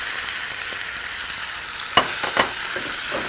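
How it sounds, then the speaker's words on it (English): Carrots sautéing in a spicy turmeric glaze in a pan, a dense steady sizzle with a couple of sharp stirring scrapes near the end, no voices. "Now saute your carrots in the spicy glaze for about 3 to 4 minutes."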